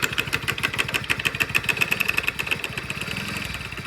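A Hero Splendor BS6 motorcycle engine idles with an abnormal noise, a rapid, steady knocking and rattling pulse running close and loud throughout with no talking.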